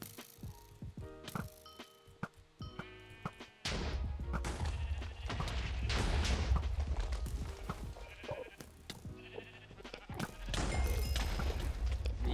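Sheep bleat repeatedly in the Minecraft SheepWars game, amid clattering game effects, thuds and crashes, with the sounds growing louder and denser partway through.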